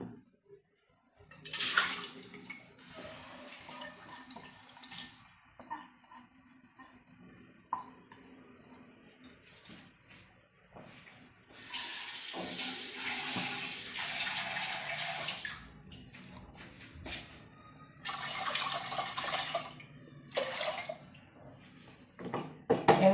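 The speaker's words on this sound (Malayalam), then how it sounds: "നന്നായിട്ട് കഴുകിയിട്ടുണ്ട് രണ്ട് പ്രാവശ്യം കഴുകി" Wheat grains are washed under a running kitchen tap, with bursts of gushing water separated by quieter gaps of dripping and handling sounds nearby.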